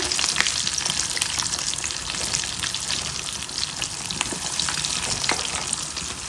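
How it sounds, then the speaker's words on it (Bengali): Rice-flour pitha cakes fry in a pan with a dense, steady crackling sizzle full of small pops, close and continuous throughout with no talking. "এখানে ফ্রাই করা হচ্ছে।"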